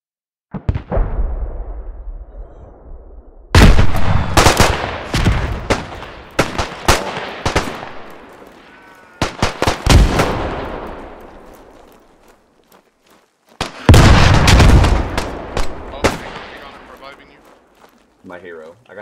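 Shotgun blasts in the World War I shooter Beyond The Wire, set in the Argonne Forest, loud sharp booms fired in several clusters with quiet gaps between, mixed with footsteps and someone talking.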